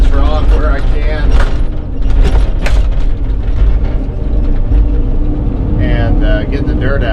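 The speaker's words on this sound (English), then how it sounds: "I'm just trying to work my way out from there, scraping this rock where I can" An excavator digging out a basement grinds and scrapes its bucket against rock in loud, continuous mechanical clanking and rasping, with short surges and a nearby engine underneath.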